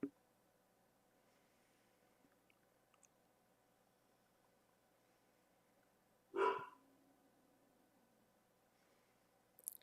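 A guard dog lets out one sharp bark at someone outside, fairly close, breaking an otherwise quiet room with faint background hum before and after.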